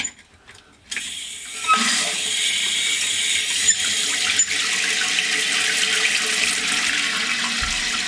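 Water rushes from a toilet's inlet hose in a loud, steady gush after a brief mechanical clicking, close by and continuing without a break.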